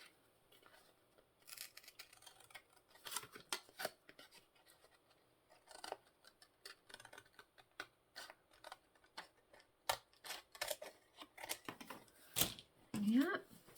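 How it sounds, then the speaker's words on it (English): Scissors snipping through a handmade journal card, a string of short irregular cuts and rustles of card, with a voice talking in between. "So we'll use the scissors and finish it off."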